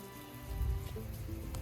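Steady rain patters on a surface nearby on the Appalachian Trail, a soft continuous hiss with a low rumble, no voices.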